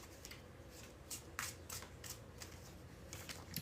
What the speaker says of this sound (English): I must shuffle these cards back into the deck